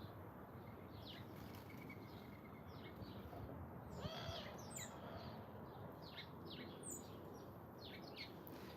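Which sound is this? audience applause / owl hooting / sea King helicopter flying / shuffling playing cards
owl hooting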